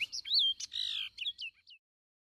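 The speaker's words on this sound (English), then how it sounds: "A bird song is typically a complex series of notes that is used to advertise to other birds during courtship of a mate" A songbird sings a quick, bright series of whistled and chirped notes, varied in pitch, clear and fairly close, ending in short trailing chirps followed by silence.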